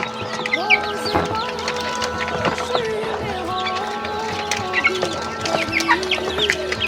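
Chickens cluck steadily while pecking and eating feed, a dense chorus of close, overlapping clucks and calls running without pause over a faint background hum.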